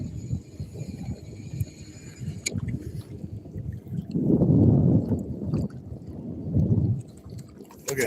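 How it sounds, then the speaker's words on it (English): Low, rumbling thumps of a fast-running motorboat's hull slapping water, swelling twice into heavier pounding over a steady churning background, heard from a distance. "I can hear his bottom of his boat popping all the way here"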